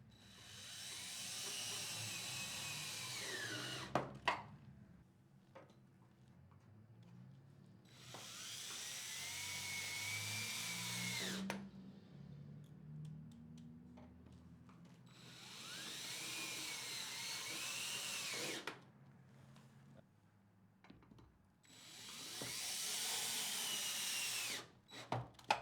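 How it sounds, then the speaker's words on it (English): Robertson panhead screws are driven with a power drill into a Murphy bed frame, heard as four separate whirring bursts of several seconds each with quiet gaps and clicks between them, close and fairly loud. "Continue along the front by drilling one Robertson panhead screw on either side of the front face panel seams"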